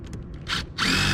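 A power drill drives screws into plywood, with a couple of brief, close whirring bursts and the last one running longest.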